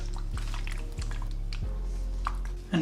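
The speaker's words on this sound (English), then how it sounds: "Our saffron water goes on the top." Saffron water is poured over the top of layered chicken biryani sprinkled with caraway seeds, making a few soft, quiet splashes and drips close by, with no talking.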